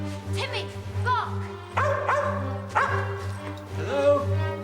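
A dog barks repeatedly at close range, a series of sharp bow-wow yelps with some whimpering tones in between, several evenly spaced barks over a few seconds.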